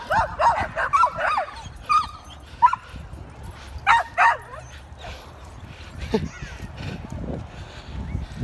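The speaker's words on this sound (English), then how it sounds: "as you can hear, there's other dogs in the park right now." Several dogs bark and yip at a distance in a park, in scattered bursts with brief whimpers between, over outdoor background noise.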